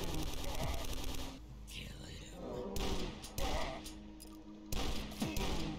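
Rapid gunfire from a fast-fire power-up in the retro shooter DUSK, loud bursts of shots with thuds and scrapes, briefly dropping away mid-clip before resuming.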